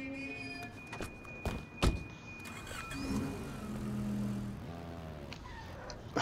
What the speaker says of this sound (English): My car sounds like a fart.